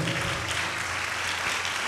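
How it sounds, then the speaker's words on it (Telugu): A church congregation claps loudly and continuously, a dense, even wash of many hands applauding together throughout, with no speech on top. "చప్పట్లు కొట్టి దేవుని మహిమపరుద్దాం గట్టిగా"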